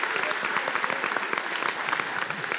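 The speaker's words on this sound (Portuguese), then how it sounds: "Vamos dar uma salva de palmas para o Senhor." A church congregation claps together in sustained, dense applause during a celebration service, a steady wash of many hands close and loud throughout with no voices standing out.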